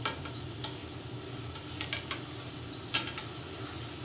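Onions sautéing in olive oil in a pan, a soft steady sizzle with occasional light clicks and scrapes of stirring, quiet and close, with no talking.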